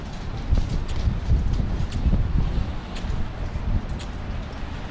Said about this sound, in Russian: Да, сегодня поднялся ветер.